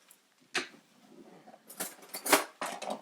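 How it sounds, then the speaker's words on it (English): A fork stirring flour and sugar together in a bowl, heard as a few quick, faint metallic scrapes and clinks in short bursts close by. "I often just use a fork to mix things around"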